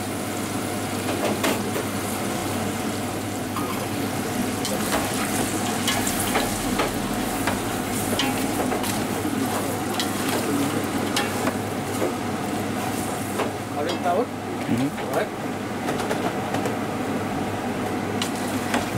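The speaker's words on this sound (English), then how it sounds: "Green beans, right? So stir it nicely. Let it stir." Green beans being stir-fried with turmeric powder in a pan for an Indian restaurant-style dry vegetable curry: a steady, loud sizzle with frequent scraping and clinking of the stirring utensil, continuing throughout without talk.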